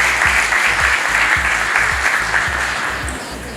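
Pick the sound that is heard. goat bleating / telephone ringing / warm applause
warm applause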